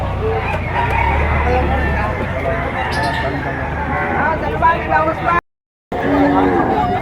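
A rooster crows among a busy crowd of chicken buyers and sellers in Padre Garcia, the call rising over steady nearby chatter and voices throughout.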